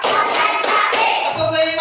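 Children in a classroom clap hands in a counting clapping game, a dense, loud run of claps with quick rhythmic patting, close and crowded, with faint voices mixed in.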